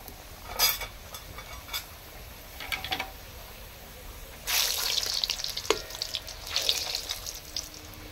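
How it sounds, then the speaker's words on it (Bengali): Dhakai paratha, a flatbread, sliding into hot oil and frying, with soft sizzling bursts that swell louder and steadier in the second half before trailing off; no voices. "আমি এখন তেলে দিয়ে দিচ্ছি।"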